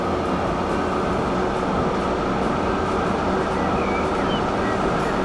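An oil train runs in Transport Fever, a loud continuous rail rumble and roar that holds steady throughout with faint rhythmic clicks above it, no voices present.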